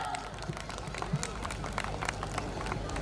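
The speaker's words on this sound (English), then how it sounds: "Please give a huge round of applause." Audience applause at a St. Joseph Convent event celebrating a presentation, dense steady clapping from a crowd with scattered voices and cheers mixed in throughout.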